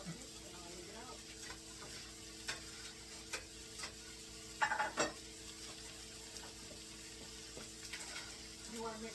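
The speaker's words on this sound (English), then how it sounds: "we're just warming up the meat now from last night's dinner" Last night's leftover beef warming in a pan for shepherd's pie, a low steady sizzle with occasional ticks and a few louder scrapes of stirring near the middle.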